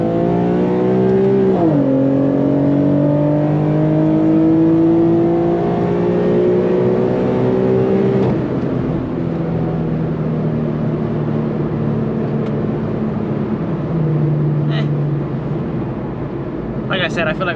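A tuned Infiniti Q50 pulls hard from a 40 mph roll, its engine droning loud and close as revs climb through two gear changes, with a voice speaking over the steady roar.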